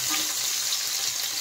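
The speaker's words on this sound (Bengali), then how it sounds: "আর এখন আমি দিয়ে দেব কেটে রাখা পেঁয়াজগুলো। পেঁয়াজগুলো এখন হালকা ভেজে নেব।" Onions frying lightly in oil for aloo matar pulao, a steady soft hiss and sizzle that stays even and close throughout with no talk.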